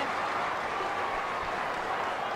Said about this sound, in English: They're cheering every mark and every kick.